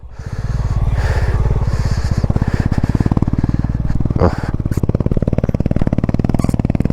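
A motorcycle fitted with a Power Range exhaust and Maxxis tyres, on a mountain road trip from Manali to Leh, runs close and loud with a steady, throbbing thump-heavy engine note throughout.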